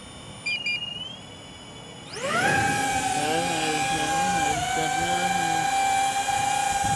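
A DJI Avata 2 drone's motors spin up from idle beeps into a loud, steady high-pitched whir that holds close by with slight pitch shifts.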